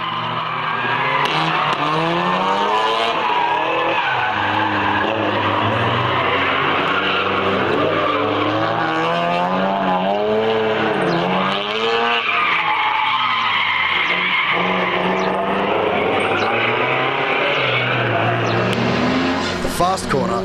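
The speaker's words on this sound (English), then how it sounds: "The fast corner always supplies the most spectacular drifts and the most spectacular stuff-ups." Drift cars skid through a fast corner with sustained, loud tire squeal and revving engines, the screech rising and falling continuously as cars slide past, with a commentator's voice running over the noise.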